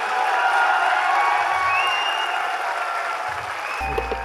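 An audience at a company's 21st anniversary event applauds, steady, full clapping from a large crowd with some cheering, sustained and loud before easing slightly at the end.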